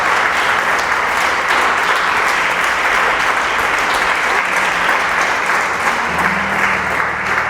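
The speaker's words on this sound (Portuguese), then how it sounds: "Você pode aplaudir o Senhor por isso?" A church congregation breaks into steady, loud applause at an evening worship service, the clapping continuous and full throughout with a faint murmur of voices beneath.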